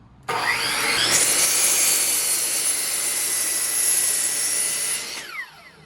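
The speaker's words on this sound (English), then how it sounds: "I know I said all you need is a skill saw, but I'm using a miter saw." A miter saw cuts through a wooden 6x6 post for a mailbox: the motor jumps to a loud, high whine, holds as the blade bites through the wood for about five seconds, then spins down.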